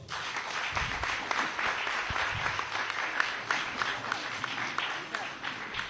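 A crowd at a school speech and debate program gives a round of applause, a dense, fairly distant clatter of many hands clapping steadily for several seconds, a little quieter than the surrounding talk.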